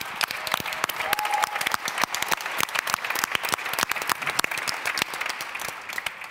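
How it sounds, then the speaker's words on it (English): Applause from the audience at a panel discussion on sleep: a moderately loud, dense run of clapping with distinct individual claps, lasting about six seconds with no talking. "and we should all give a very big applause for Steffi, the great junction maker."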